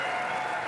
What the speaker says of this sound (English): Most of the Expo Centre arena stood up in cheers and support